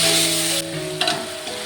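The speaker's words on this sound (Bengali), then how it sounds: "এখন যে মাটনটা আমি মেখে রেখেছিলাম সেই মাটনটাকে দিয়ে দেবো" Marinated mutton hitting hot oil with bay leaves, whole cloves, cardamom and cinnamon for kacchi biryani in a large pot, a loud steady sizzle that drops sharply partway through, then continues with lighter crackles and a stirring scrape.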